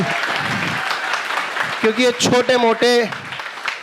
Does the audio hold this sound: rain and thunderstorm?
no